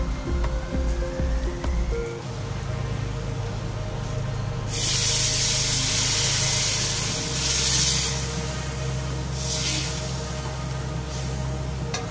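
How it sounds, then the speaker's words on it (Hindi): Water poured into a pot of hot, fried masala for beef paya, a loud steady gushing hiss with sizzling that starts a few seconds in and continues to the end, with no talking over it. "तो अब इसमें हम पानी डालते हैं"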